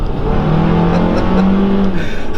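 A 2019 Hyundai Kona Turbo AWD accelerates from a rolling start in sport mode with traction and stability control off, its engine note climbing steadily, loud and close, heard from inside the car without talking.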